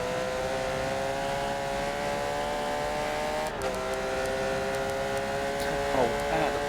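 Porsche GT3 race cars drone with a steady engine hum in an online racing video game on a Virginia circuit, with brief shifts in pitch partway through and no talking.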